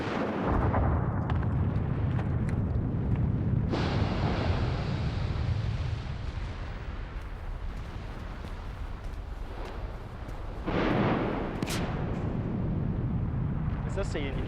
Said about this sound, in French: c'est une superbe explosion,